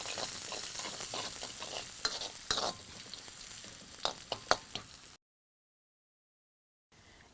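Onions fry in a pan for poha, giving a close, steady sizzle broken by sharp stirring clicks and scrapes for about five seconds, then a stretch of silence before the sizzle briefly returns.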